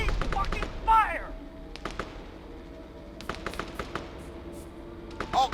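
Scattered gunfire in the military shooter Arma 3, a few sharp shots at irregular intervals near the start and end, with quieter cracks between, under voices shouting in the background.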